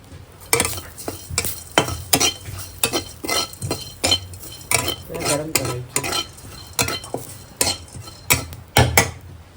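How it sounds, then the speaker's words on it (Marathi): Black pepper and cloves being dry-roasted in a pan over a wood-fired stove, heard as a steady rhythm of scraping, clinking stirs against the metal with a soft sizzle underneath, close and clear. "आता आपण ह्याच्यामध्ये काळी मिरी थोडी भाजून घेतोय"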